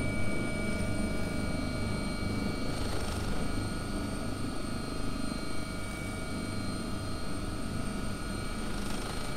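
Simulated AW-139 helicopter in the X-Plane 11 game lifting off as a London air ambulance, giving a loud, steady rotor and turbine drone with constant whining tones and a dense low rumble throughout.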